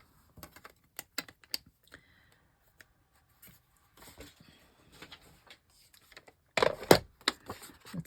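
A 6x6 paper pad trimmed by hand, heard as sparse quiet clicks and taps followed by a louder burst of cutting and paper rustling near the end.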